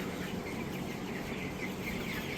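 A dense flock of 20-day-old broiler chickens in a poultry shed gives off a steady, even murmur of soft clucks and chirps, with no single bird standing out.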